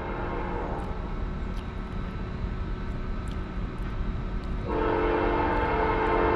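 A Union Pacific ET44AH locomotive rumbles past with a steady, loud roar of engine and rolling wagons, and its horn sounds throughout, swelling louder in the last second and a half.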